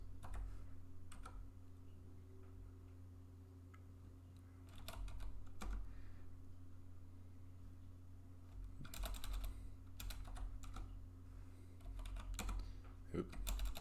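Computer keyboard typing in bursts of quick clicks, fairly faint, over a steady low hum in a room during a live wallet and credit-card Q&A, with brief pauses between runs of keystrokes.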